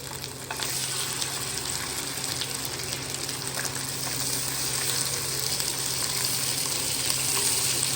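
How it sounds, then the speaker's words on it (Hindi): Seekh kababs sizzle in hot oil in a pan, a steady, close, even frying hiss that runs throughout without talk and swells slightly toward the end. "अब सीखों को पैन पे रखेंगे, उनको पका लेंगे।"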